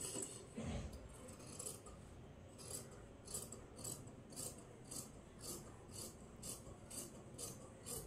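Scissors cut blouse fabric for a sleeve, producing a quiet, steady run of short rhythmic snips and rasping blade strokes, close and faint, with no talking.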